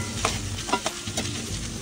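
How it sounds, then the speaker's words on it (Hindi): Chopped medium-sized onions frying in a pan while being stirred, a steady close sizzle broken by a few soft scrapes of the spatula, with no voices. "4 मीडियम साइज के चॉप किए हुए प्याज, 4 लाइट गोल्डन ब्राउन होने तक ही हम कुक करेंगे"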